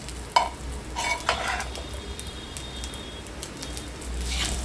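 Hot rice being stirred into egg fried rice in a pan, with soft sizzling and several spatula scrapes and taps over a steady low background.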